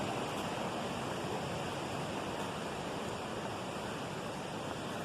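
Scott Gomer Creek running high with snow melt, a steady full rushing roar of water that stays constant and close throughout with no voices.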